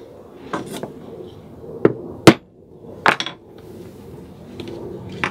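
A hammer taps a hole punch through leather while making a knife sheath: a few sharp, close knocks spaced about a second apart over a quiet room background.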